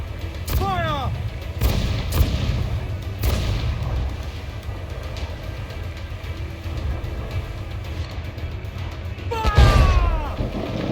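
Ship cannons firing in Assassin's Creed 4 Black Flag during a naval battle, several heavy booms at irregular intervals with a loud final blast near the end, amid crew shouts and a constant rumbling sea backdrop.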